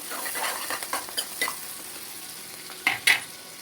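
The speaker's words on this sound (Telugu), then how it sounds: "ఇంకా ఫ్రై అవ్వాలి, ఎందుకంటే ఈ క్యారెట్ అనేది రోస్ట్ కావాలి" Carrot pieces fry and get stirred in a pan for egg fried rice, a steady soft sizzle broken by several sharp clinks of a spatula or spoon against the metal near the end, with no talking.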